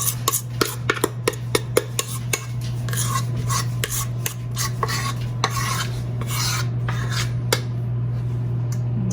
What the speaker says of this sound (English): I'm going to go ahead and use the spatula to get everything out of here